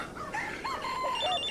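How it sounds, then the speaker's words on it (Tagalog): An incoming call rings on a cellphone in a quiet indoor scene at night, a faint melodic ringtone of short rising tones with no talk over it. "may tumatawag sa cellphone ko"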